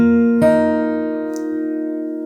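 A fingerstyle acoustic guitar note is plucked once, close and clear, then sustains and slowly fades; a faint tick comes partway through the ring.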